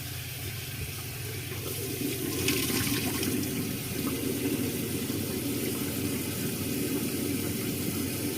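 Warm water runs steadily from a bathroom tap into a sink, a continuous close splashing rush that swells slightly partway through, with no talking.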